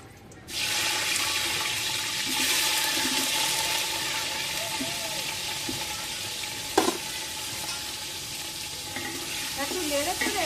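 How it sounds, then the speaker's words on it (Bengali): Cauliflower florets frying in hot oil with salt, a steady close sizzle throughout with occasional stirring clatter and one brief sharp knock. "নুন দিয়ে ফুলকপিগুলো ভেজে নেবো"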